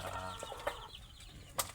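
An Australorp laying hen clucks softly in a few short, scattered calls, with a brief flutter and sharper squawk near the end, quiet and fairly close.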